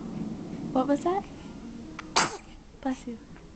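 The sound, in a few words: woman sneezing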